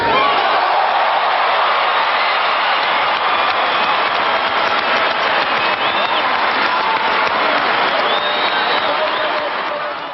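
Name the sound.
applause at police academy graduation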